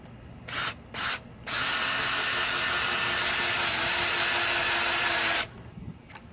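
A Stanley 20V SCH201C2K cordless hammer drill in drill mode, first speed, whirs steadily at one speed for about four seconds after a couple of brief trigger bursts, then stops.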